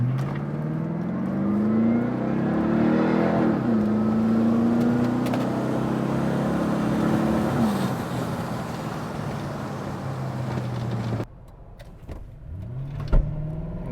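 A Ford P71 sedan accelerating hard from a standstill in a 0 to 60 run, a steady engine roar with rising pitch and shifts, heard from inside the cabin, dropping to a quieter idle near the end.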